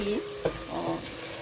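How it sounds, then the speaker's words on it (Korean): Beef and pre-fried seaweed being stir-fried in a pan for Korean seaweed soup, a steady close sizzle with scraping stirring strokes, no talking. "볶아놓은 미역을 넣어서 조금 더 볶아주겠습니다"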